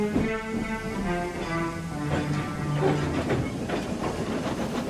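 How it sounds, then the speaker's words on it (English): The Royal Mail steam train runs along the tracks at night, a steady chuffing rumble with hissing steam and a drawn-out whistle-like tone, continuous and fairly close, with no voices. "But not the Royal Mail Train. It was making its way along the tracks."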